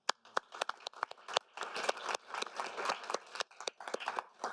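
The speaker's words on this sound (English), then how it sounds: "a big round of applause for our panelists" Scattered applause for panelists at a conference on circular economy and trade, sharp uneven handclaps from a modest group, close and fairly quiet, rising slightly then thinning out.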